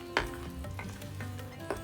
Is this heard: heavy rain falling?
no